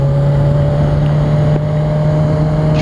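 A motorcycle engine riding in second gear gives a loud, steady drone with a constant low hum, heavy wind rush over it throughout, and no talking.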